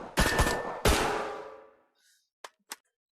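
A Steyr AUG rifle of the Irish Army fires two loud, close bursts of automatic gunfire, each ringing out and decaying, followed by a couple of sharp mechanical clicks.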